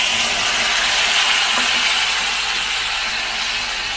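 Spice paste of chilli, coriander and cumin sizzles in hot oil with a broad, even, continuous hiss, close and steady with no voices, softening slightly toward the end.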